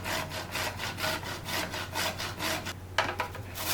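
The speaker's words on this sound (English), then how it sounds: "Grate in some fresh nutmeg" Fresh nutmeg is rubbed over a grater in quick, steady back-and-forth strokes, giving a close, continuous rhythmic rasping with about three scrapes per second and no talking.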